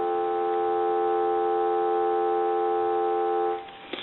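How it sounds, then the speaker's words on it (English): A steady telephone dial tone hums for several seconds, then cuts off abruptly, followed by a brief click. "Give you some dial tone."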